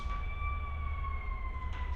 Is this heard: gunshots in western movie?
no